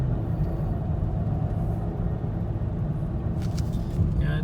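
A Volvo car driving, a steady loud low engine and road rumble heard from inside the cabin, with a brief higher rattle near the end.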